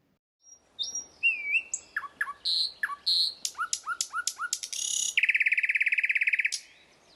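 A nightingale sings alone, close and clear: varied whistles, quick chirps and a rapid rattling trill near the end.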